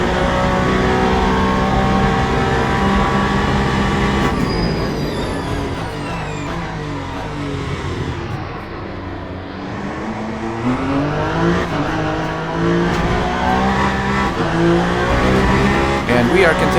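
A race car engine roars down the main straight at Bahrain in Le Mans Ultimate, a loud sustained whine that dips and climbs through gear changes, close and continuous with a voice talking over it.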